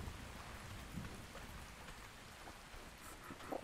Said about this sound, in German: Also ich stehe unter Regen.